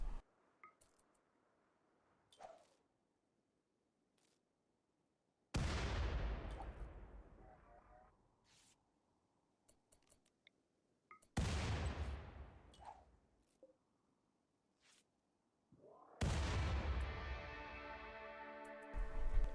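Combat in the Rimworld video game against a mechanoid cluster: a few scattered sharp turret shots, then three heavy booming grenade blasts that roar and fade, the last followed by rumbling, with quiet gaps between.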